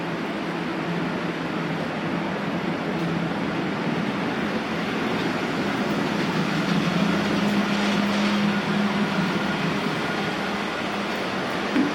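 An S scale 1/64 model streetcar runs on a layout with a steady low electric whir and faint rolling track noise, continuous and fairly quiet, with no voices.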